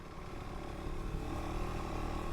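A KTM 390 Adventure R motorcycle engine drones steadily during a ride on a soggy trail, a continuous close rumble with wind noise that builds slightly louder partway through.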